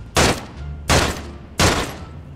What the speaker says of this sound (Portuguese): Eu acabei de ouvir os tiros.